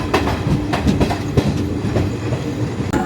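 Passenger train on the Kolkata to Deoghar line at Chinsurah station, with loud close rumble and irregular wheel clatter over rail joints, continuous for a few seconds and no talking.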